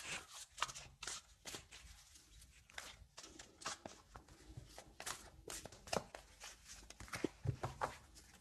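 Oracle cards shuffled by hand for a reading, a close run of quick papery riffles and slaps repeating in bursts, fairly quiet with no talk.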